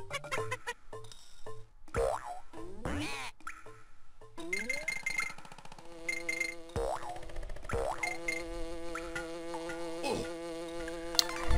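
Bees buzzing in Donkey Kong Country on the Game Boy Advance, whiny insect drones mixed with springy boing effects and chiptune game sounds, shifting irregularly throughout.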